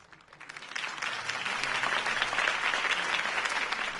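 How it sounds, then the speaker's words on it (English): A crowd claps, swelling quickly into steady, fairly distant applause that continues without letup. "could have heard that applause"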